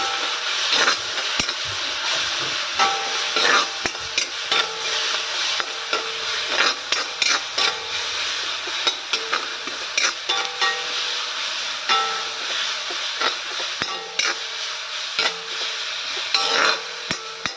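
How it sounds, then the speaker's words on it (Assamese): Spices sizzle and fry in mustard oil in a pan while a spoon scrapes and stirs in irregular strokes, close and continuous. "তাৰপিছত সৰিয়হৰ কেঁচা ভাৱটো গোন্ধটো যোৱালৈকে মই অকণমান টাইম ভাজিমে"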